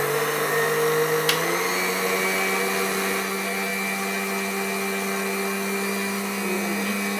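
A blender whirs loudly and continuously, close by, as it mixes eggs for a creamy white sauce, its steady motor drone dipping slightly in pitch early on before holding a constant tone, with no talking.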